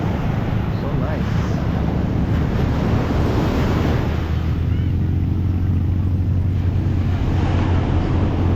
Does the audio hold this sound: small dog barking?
no